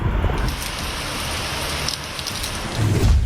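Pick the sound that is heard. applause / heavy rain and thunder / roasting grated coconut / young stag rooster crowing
heavy rain and thunder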